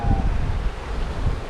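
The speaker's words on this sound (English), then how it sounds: "We've got somewhere between 20 to 25 knots of wind" Strong wind of 20 to 25 knots blows on a sailboat running fast downwind at sea. It comes through as a loud, constant roar and buffeting of wind across the microphone, with rushing water beneath and no speech.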